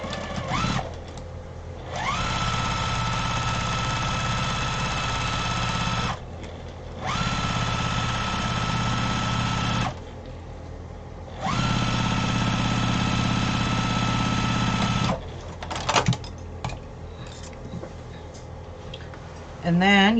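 Sewing machine stitching a quarter-inch seam in a fabric briefcase, running in three steady bursts of a few seconds each with short pauses between, close and continuous, followed by quieter handling sounds.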